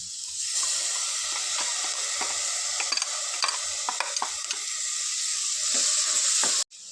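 A ground tomato and onion paste hits a hot pan and sizzles steadily, with a bright continuous hiss broken by light stirring clicks and scrapes, close and loud with no talking.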